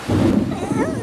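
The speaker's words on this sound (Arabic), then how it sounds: "قلت لك لا تخف، إنه صوت الرعد." A brief burst of thunder, a loud low rumble lasting about a second, with no talking.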